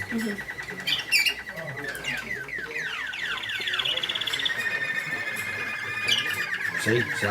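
An American singer canary at a canary show sings a continuous, rapid warbling song of trills and chirps, with bird chatter and some background noise behind it.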